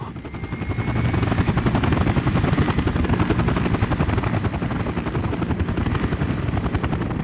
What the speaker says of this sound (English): Helicopters are around. We can tell from the incredible noise that they make. They are loud.